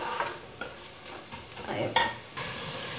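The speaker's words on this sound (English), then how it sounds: "So I'm adding tomato puree in this" Tomato puree stirred into chole masala in hot oil, a close sizzle with scraping spoon strokes against the pan and a sharp metallic clink, no talking.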